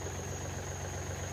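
A three-cylinder Yanmar diesel idles in a brief, fairly faint stretch, a steady low rumble with a slight vibrating hum and no speech.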